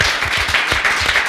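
A theatre audience at the season finale of a show in Vittorio Veneto claps in tribute, a dense, loud, steady wash of applause with no voices over it.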